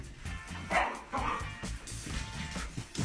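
A puppy yips and barks excitedly while chasing a motorized toy around, close and lively, with a short burst of whimpering.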